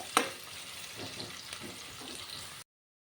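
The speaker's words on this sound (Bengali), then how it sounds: "পেঁয়াজটাকে অল্প ভেজে নেব আমি হালকা করে" Two medium chopped onions with whole cumin seeds fry lightly in a pan, giving a faint, steady sizzle after one sharp clink at the start, and no one talks.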